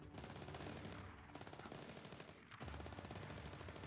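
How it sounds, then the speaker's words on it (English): Gunfire crackles through a Splinter Cell Blacklist firefight: sustained rapid automatic bursts with brief pauses, steady and fairly distant in the game mix, with no one talking. "No, they're too busy shooting someone else."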